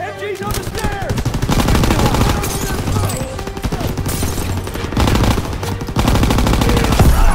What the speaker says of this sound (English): MG's on the stairs!